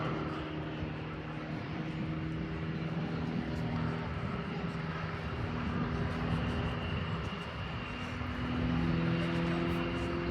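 Display aircraft flying a left-hand spin at the Farnborough Airshow 2024, a steady droning engine roar heard from a distance with shifting tones, while a voice commentates over it.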